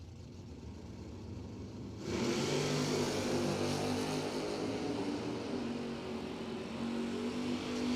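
Dodge Demon and Chevrolet Camaro roaring off the line at a Door Wars drag race, a sustained loud engine blast that surges in at about two seconds and holds steady to the end.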